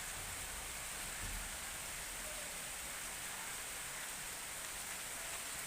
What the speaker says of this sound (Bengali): দেখো এখানে খুব বৃষ্টি হচ্ছে